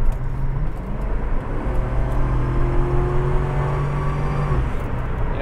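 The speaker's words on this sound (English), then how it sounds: "this is one of the greatest sounding engines ever" A Ford Cobra V8 swapped into a Volvo 240 rumbles close and loud with a deep, steady engine drone, its pitch rising gently as it revs under load, with no talk over it.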